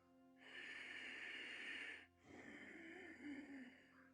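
Ujjayi pranayama ocean breath drawn through a contracted throat, a long steady hissing breath followed by a short pause and a second, rougher breath, close and fairly loud with no talking.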